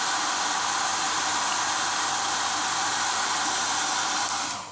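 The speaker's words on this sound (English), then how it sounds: "A hair dryer is used to dry water sensor." A hair dryer blows with a loud, steady, broadband whoosh, drying a water sensor on an aquaponic system, holding constant throughout, then cutting off abruptly at the end.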